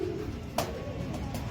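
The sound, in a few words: pigeons cooing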